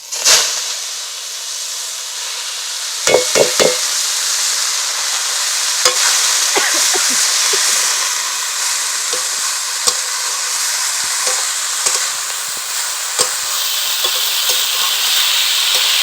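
Loud steady sizzling of village-style kolmi greens frying in hot oil, with occasional scrapes and clatters from stirring throughout.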